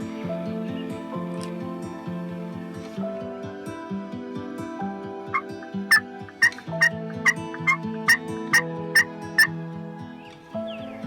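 A wild turkey tom calls near a hunting blind at first light: a run of rhythmic tonal gobbling gives way to a string of sharp, evenly spaced loud notes, with no talk.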